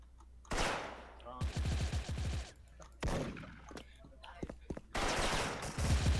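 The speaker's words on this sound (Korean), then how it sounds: "뭐 총소리 들려, 뭐야." Video game gunfire comes in several sharp bursts of rapid automatic fire, separated by short pauses, while people talk over it.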